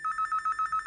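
A telephone bell ringing in a fast, steady warble, moderately loud and alone without talk.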